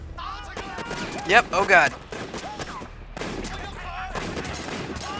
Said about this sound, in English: I think this is the first gunfight